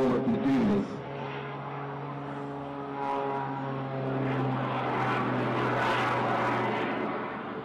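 A Pitts aerobatic biplane fitted with jet turbines performing at an airshow in Ayr, Scotland, a loud sustained engine drone with a steady tone that swells and shifts as the aircraft manoeuvres overhead.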